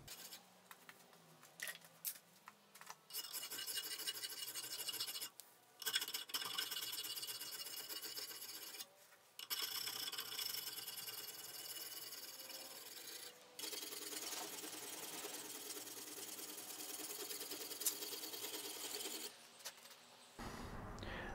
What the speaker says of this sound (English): I just ground an edge on the blade.